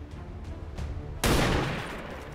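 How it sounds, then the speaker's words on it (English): A single loud gunshot in the video game XCOM 2 blasts in suddenly after a few faint thuds, then decays over about a second into a lingering rumble. "so let's take this shot."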